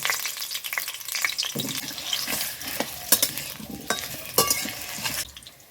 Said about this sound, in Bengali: আমি আলুটাকে ভেজে নেব